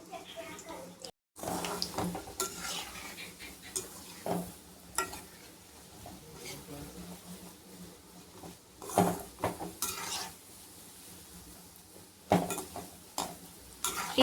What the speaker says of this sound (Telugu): ఇప్పుడు మీడియం ఫ్లేమ్లో ఈ జామున్స్ వేయించుకోవాలి